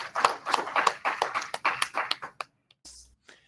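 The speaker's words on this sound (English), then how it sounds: "let's give them a round of applause." Scattered clapping from a university anniversary gala audience, a few hands patting in uneven rhythm for about two seconds before tapering into silence with a couple of last faint claps.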